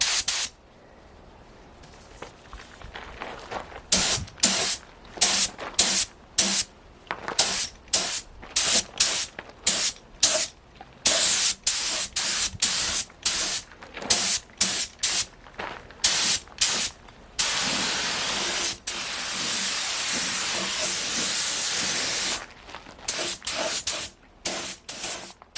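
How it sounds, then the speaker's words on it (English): Spray gun laying a light coat of epoxy primer onto a car subframe, loud close hissing bursts in rapid on-off pulses, then a longer continuous spray pass before short bursts resume; no talk. "you'll see the epoxy primer and you'll get the idea"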